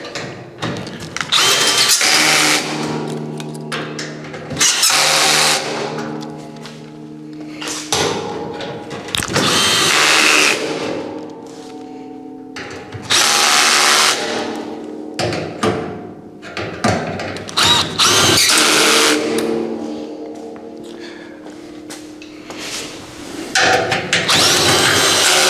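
A power drill drives screws while a Recteq Deck Boss 800 pellet grill is being assembled, with several loud whirring bursts of varying length and short pauses, plus occasional clunks of parts being handled.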